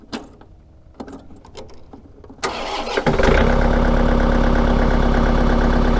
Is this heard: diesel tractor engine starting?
yes